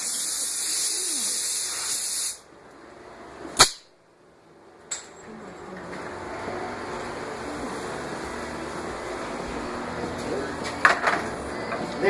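A paint spray gun coats a Dodge Ram hood with a loud, steady, close hiss that cuts off after about two seconds, followed by a few clicks and a softer shuffling background.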